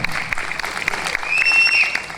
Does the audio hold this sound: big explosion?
no